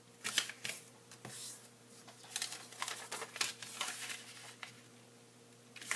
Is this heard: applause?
no